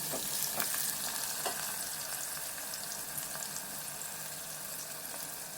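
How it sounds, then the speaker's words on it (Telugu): Onions frying in oil until brown for an okra tamarind curry, a constant close sizzle with light spatters and a few stirring scrapes, steady and unbroken without any voices. "ఆనియన్స్ అయితే ఇంకా బ్రౌన్ కలర్లో మగ్గాయి చూడండి ఇలా మగ్గాలి అన్నమాట"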